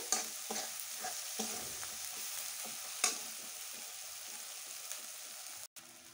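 Chana aloo ghugni with turmeric and spices stir-fried in a pan for a dhaba-style dish, a steady sizzle broken by repeated scraping strokes of a spoon, one sharper scrape near the middle and a brief dropout at the end.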